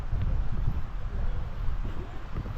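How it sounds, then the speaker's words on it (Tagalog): Strong wind roars around a tent at a cold, rainy overnight campsite in Malico, Pangasinan, a steady low rumble buffeting the microphone without letup. "Umuugong yung hangin."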